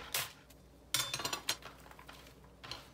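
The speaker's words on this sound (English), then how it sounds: "Grab like really good sharp knife and you're gonna slice like julienne" Sharp kitchen knife slicing red onions into julienne strips on a cutting board, a few crisp clustered chops near the start and middle with quieter taps between, close and fairly quiet.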